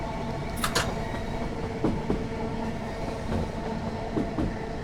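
A diesel multiple unit runs on a line in Train Sim World 5, a moderate rumbling ride with rhythmic wheel clicks over rail joints and occasional brief squeals, steady throughout with no voices.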